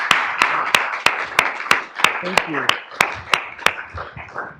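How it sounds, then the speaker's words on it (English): Seminar audience clapping at the close of an entrepreneurship talk, with loud, distinct claps at a steady, fairly slow beat, mixed with a speaker's voice talking over them. "Another round of applause."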